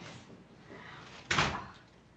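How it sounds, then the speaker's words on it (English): A door opens with a short, sharp rush of noise around the middle, rising quickly and fading, against a quiet background hiss. "The door's open."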